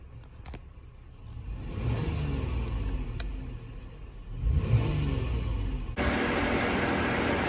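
A 2011 Ford Explorer XLT 4WD with a 3.5 liter naturally aspirated V6 starts up: a low rumble that swells, dips and surges, then settles into a smooth, brighter steady idle near the end.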